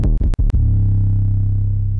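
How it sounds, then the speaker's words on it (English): Heavy 808 bass from an FL Studio R&B trap beat: a few quick deep hits at the start, then one thick, sustained low boom that rings out for the rest of the clip, loud and alone. "These 808s are thick."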